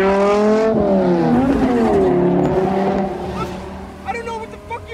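Car speeding during a chase scene in the film Wanted, a loud revving engine whine rising and falling in pitch, with people talking over it.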